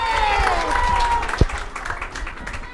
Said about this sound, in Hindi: सब लोग तालियां बजाकर, हाथ उठाकर बताएं मुबारक